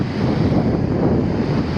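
Ocean waves washing up a beach during metal detecting, a loud, steady rush of surf with heavy wind buffeting the microphone, no talk.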